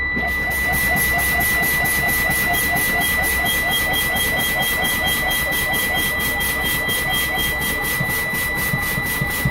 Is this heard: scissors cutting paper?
no